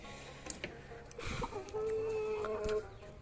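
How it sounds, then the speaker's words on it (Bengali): Chickens cluck softly nearby, with one drawn-out call rising above a low barn hum; no talking. "তো এই হচ্ছে মুরগিগুলো দেখতে পারতেছেন"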